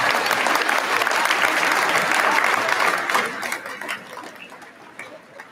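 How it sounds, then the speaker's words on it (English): An audience at a 2018 university commencement breaks into loud, dense applause, holding steady for about three seconds before thinning and tapering off into scattered claps. "that's the first line of this speech that's gotten applause"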